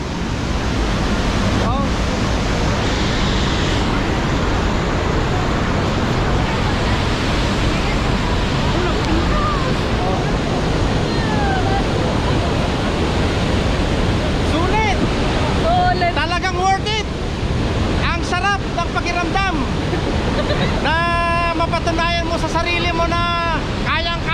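Montmorency Falls in Canada roars up close as a steady, loud broadband wash of falling water, with wind buffeting the microphone throughout and a few faint voices in the background near the end.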